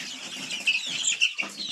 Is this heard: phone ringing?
no